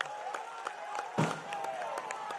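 A political rally crowd welcomes a new state party leader with applause, scattered claps and a low murmur of voices spreading through the hall, steady and moderately loud at a distance.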